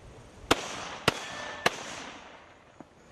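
Three sharp, evenly spaced shots from an M1 carbine rifle firing pistol-caliber rounds at distant targets, each a crisp crack, followed by a fainter fourth report. The shots are moderately loud, with quiet ambience between them.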